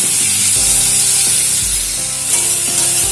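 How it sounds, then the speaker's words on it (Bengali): Prawns fry lightly in a pan for an ash gourd and prawn ghonto, giving a loud, steady hissing sizzle over soft background music. "এবারে চিংড়ি মাছগুলোকে একটু হালকা মতো ভেজে নেব"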